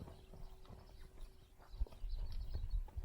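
A horse trotting during a colt-starting session, its hoofbeats a steady clip-clop rhythm at moderate distance that grows louder and busier toward the end, with no talking.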